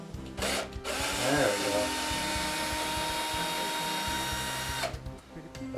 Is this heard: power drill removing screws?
yes